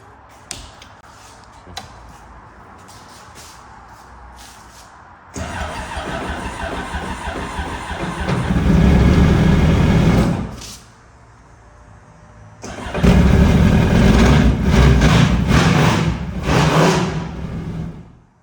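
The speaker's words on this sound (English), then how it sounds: "so we just got the motor running, as y'all can see" The motor of a flooded, wrecked Yamaha jet ski runs loud and close in two long sustained stretches with a quieter lull between them, after a softer, patchy opening.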